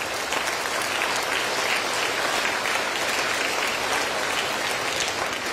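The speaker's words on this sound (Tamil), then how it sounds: "இவ்வளவு தூரம் வந்து கைதட்டுறோம்" Audience applause filling a hall, steady dense clapping from many hands at an even loudness throughout, with no voices heard above it.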